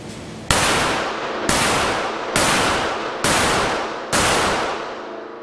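A Browning Hi Power pistol fires five single shots at an outdoor range, each a sharp loud crack with a brief decaying ring, spaced roughly a second apart.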